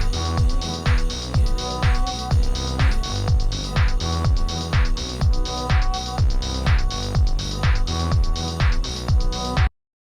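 A lo-fi house mix built from samples, with a punchy four-on-the-floor kick pulsing steadily and a sustained droning layer over it, loud and continuous until it cuts off abruptly near the end.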